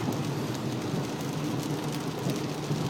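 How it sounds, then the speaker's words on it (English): Heavy rain pours down steadily in a dense, unbroken hiss, drumming hard on surfaces close by with no pauses and no voices. "I just felt like recording this because it never rains that hard over here."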